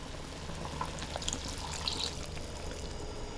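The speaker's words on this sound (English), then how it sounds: "Now I'm going to pour in 1 cup of cold water" One cup of cold water is poured into a pot of food cooking for Chinese New Year, giving a steady, soft stream of splashing that runs without pause.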